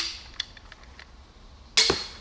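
A compact crossbow shooting an arrow, a sharp loud snap near the end after a few faint clicks and handling noises, with a brief ringing decay.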